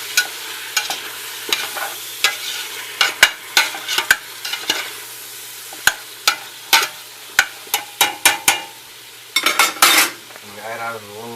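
Ingredients for Algerian chorba are stirred and mixed in a pot, with a quick series of sharp utensil scrapes and clinks over a low, steady sizzle.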